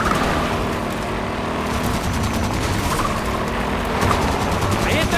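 Dense, continuous automatic gunfire from a fight against swarming alien creatures in the video game Halo 5: Guardians, loud and sustained throughout, with voices from the game heard under the shooting.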